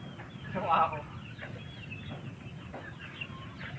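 Hens cluck in a short burst near the start, close and clear, followed by quieter scattered clucking and farmyard bustle throughout.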